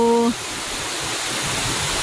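Steady broadband rush of the Lamba Falls waterfall in the mountains of Banga, South Cotabato, continuous and fairly loud after a brief tonal sound at the very start.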